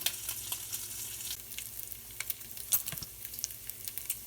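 Bacon sizzles and crackles steadily in a hot pan, a soft continuous hiss dotted with small pops.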